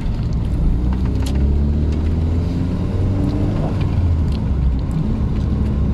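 An original Volkswagen Golf 1 GTI is driven on the road, with a steady low engine drone and rumble heard from inside the car throughout, no talking over it.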